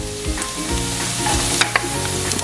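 Fresh garlic and red onion sautéing in a hot pan for tokwa't baboy, producing a loud, dense sizzle close up with brief scraping stirs.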